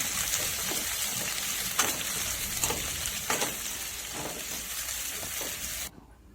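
Bay leaves and whole spices frying in hot oil in a wok for chicken curry, a steady close sizzle with a few stirring clicks, cutting off abruptly near the end.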